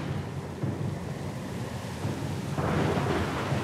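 A stormy sea in the game Pillars of Eternity 2: Deadfire, with steady rain and rolling thunder that swells louder near the end, no speech.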